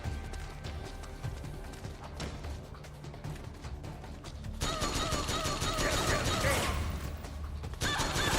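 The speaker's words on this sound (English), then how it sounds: "Don't get in front of gunfire." Metal Gear Solid 4: Guns of the Patriots combat plays out with mechanical clatter, then a denser burst of rapid gunfire and impacts swelling in the second half, fairly quiet overall.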